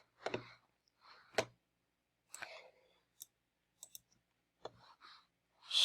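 A computer mouse clicks in short, crisp bursts, about eight separate clicks spaced irregularly over a few seconds, close and quiet against near silence while a prototype is published and its link copied.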